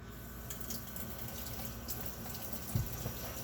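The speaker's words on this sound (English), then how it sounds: "I'm gonna wash my hands first, so everybody knows my hands are clean." Tap water runs quietly and steadily into a sink while hands are washed during meatloaf preparation, a soft continuous splash with no talking.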